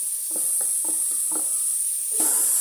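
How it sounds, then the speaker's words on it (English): Steady hiss and sizzle from a cooking pot as green pepper and garlic go in to boil, with several soft stirring knocks and clatters over a constant high steam-like wash. "I'll add the green pepper and garlic together so it can boil."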